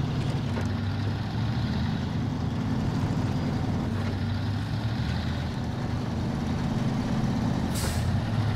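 A truck engine in SnowRunner drones loudly and steadily while driving off-road, with faint shifts in pitch and a brief hiss near the end, and no one speaks.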